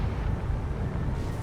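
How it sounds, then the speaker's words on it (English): A ship's magazine detonates in the naval combat game War on the Sea, a deep, sustained rumbling roar filling the low end throughout with a steady hiss above, loud and continuous with no voices. "1 straight to magazine explosion"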